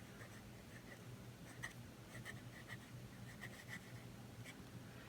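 A TWSBI Mini fountain pen's nib is dragged in reverse across paper, giving faint, fine scratchy strokes in short irregular bursts against a quiet background, with no voices.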